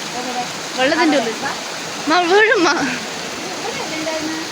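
A waterfall at Ramapadam, with a Shiva lingam beneath it, gives a steady, broad rushing roar that fills the whole clip while people talk over it.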